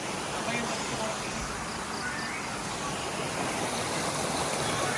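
A small mountain stream on the trail to Panday Falls via Viper Peak in Toril, Davao City, rushing in a steady broadband wash up close, with no gaps.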